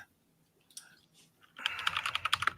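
Rapid computer keyboard typing starts about halfway through, a dense run of close, crisp key clicks after a few faint taps, with no talking over it.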